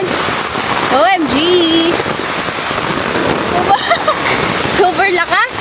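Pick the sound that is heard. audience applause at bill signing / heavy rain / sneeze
heavy rain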